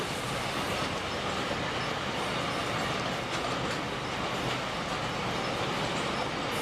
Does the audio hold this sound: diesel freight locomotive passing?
yes